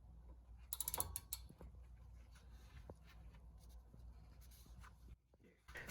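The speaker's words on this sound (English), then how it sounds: "And back out the slide pins to release them from the caliper." Fiat 500 brake caliper slide pins being backed out with a hand tool, quiet close ratcheting clicks and small metallic scrapes and knocks, faint and irregular.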